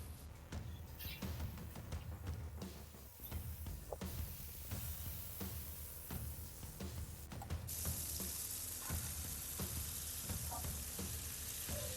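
Smash burger patties sizzle loudly on a hot griddle slicked with avocado oil, a steady crackling fry with scraping and clattering as they are spaced out and pressed.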